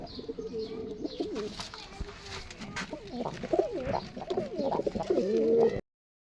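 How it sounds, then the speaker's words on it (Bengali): Native deshi pigeons, both female, coo in low rolling calls at close range, with a few chirps and background rustle before the sound cuts out near the end. "দেশি কবুতর দেশি কবুতর দুইটাই মাদি"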